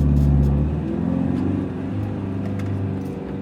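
A camper van running on LPG pulls back onto a French motorway, its engine giving a steady close mid-low rumble that eases slightly after the first second and carries on alone without speech.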